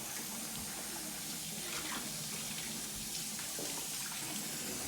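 Hot water runs and pours steadily for mixing a cocoa powder paste, a soft continuous splashing stream heard close and alone without talk.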